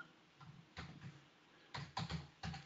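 Keys clatter on a computer keyboard in short, quiet bursts of rapid clicks, separated by brief pauses.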